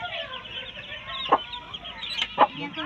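Hens on a chicken farm cluck softly, with a couple of sharper, brief calls standing out over a quiet, low background.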